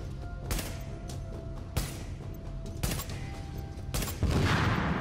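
Gunfire in the video game Tom Clancy's The Division rings out as four sharp, loud shots spaced about a second apart over a constant low background rumble, ending with a louder burst of noise.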